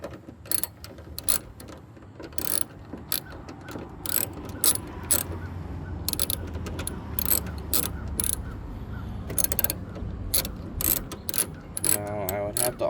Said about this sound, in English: we're gonna pull these radiator mounting bolts off first.